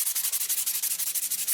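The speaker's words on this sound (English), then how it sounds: "that is where the sandpaper comes in handy, and as you can see, it is much quicker and much more effective" Sandpaper rubs by hand across a metal distributor heat shield from a 4A-GE MR2 AW11 in quick, even back-and-forth strokes, a close, steady scratchy rasp with nothing else heard.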